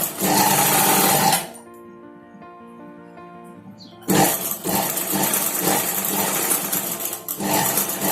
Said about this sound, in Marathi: आणि पाव इंच स्टिच करायचं